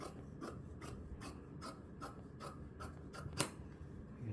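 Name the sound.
cutting fabric while trimming a draping pattern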